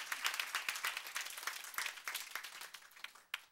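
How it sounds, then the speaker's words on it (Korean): Applause from a church congregation during a sermon, a dense run of many hands clapping at moderate distance that thins out toward the end, with one last sharp clap. "이때 박수를 치는 거지 지금 안 치고 뭐 하는 거예요?"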